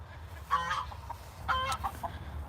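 Chickens in a backyard run give a few short, soft clucks and squawks at a distance, two brief bursts over a low outdoor rumble.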